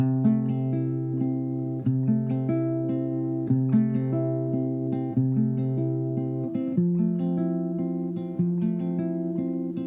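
Guitar chords strummed in a steady repeating pattern, each chord rung several times with clear ringing sustain, played alone at moderate loudness.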